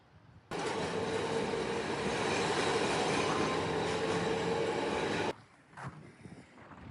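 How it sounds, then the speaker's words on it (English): Tram ride through Milan, a steady loud rumble of wheels and carriage running for several seconds before cutting off abruptly, followed by quieter rattling and clatter. "I'm waiting here for the tram"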